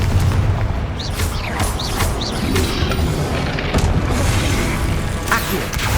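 Repeated Confringo spell blasts in Hogwarts Legacy, booming fiery explosions layered with magical whooshes and crackles, loud and continuous over dense game combat noise with no pauses.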